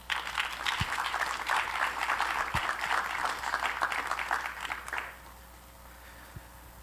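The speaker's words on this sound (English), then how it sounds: "we ask you to all celebrate with us by giving them a big round of applause" Loud, sustained applause from a large audience at a film festival awards ceremony lasting about five seconds, then fading quickly into quiet room tone.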